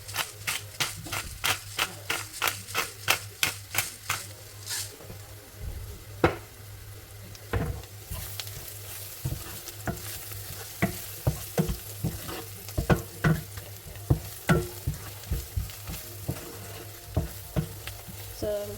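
Beef curry cooking in a pan with fennel, cardamom and black pepper, a spoon scraping and stirring in steady repeated strokes over a continuous close sizzle and frying hiss, with no talking.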